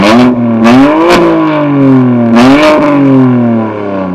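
A BMW M4 on its stock BMW Sport exhaust revs hard twice, each loud close blip rising sharply and sweeping back down, the engine droning steadily between and after the revs.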